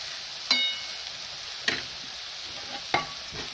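Potato goes into a pan already frying prawns and kalmi greens, a steady close sizzle broken by three sharp scraping stirs spaced about a second apart.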